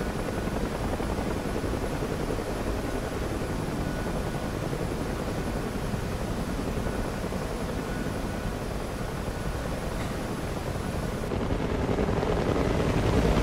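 A UH-1H Huey helicopter in DCS World flies with a dense, continuous rotor and turbine roar that holds steady and swells slightly near the end, close and loud, with no talk.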